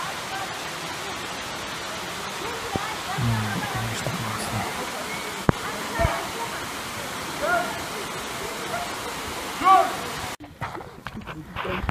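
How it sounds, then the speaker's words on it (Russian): A forest waterfall near Lake Issyk-Kul gives a continuous broadband rush of falling water, with people talking briefly over it and scattered footsteps and handling noises. "Насладились прекрасным водопадиком."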